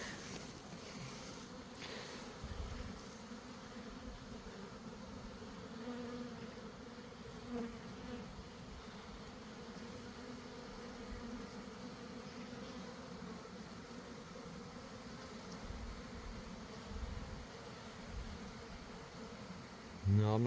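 Honeybees buzz at a beehive in an apiary, a faint steady drone close by with occasional louder passes as individual bees fly near.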